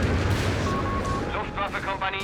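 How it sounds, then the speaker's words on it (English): Frag bombs explode in a Company of Heroes 3 battle, making a dense, loud, continuous rumble of blasts and booms throughout, with a voice briefly audible near the end. "There's frag bombs."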